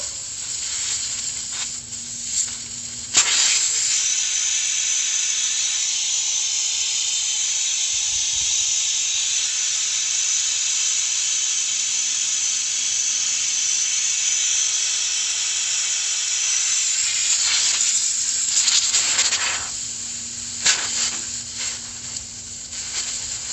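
Compressed air hisses out of a tyre valve once the valve core is removed. The hiss starts abruptly, runs loud and steady for about fifteen seconds, then tapers off and stops.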